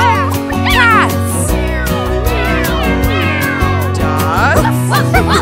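A cat meows in a children's family music song, with repeated melodic meows over a steady musical backing, loud and close, sung in an imitative way by a voice.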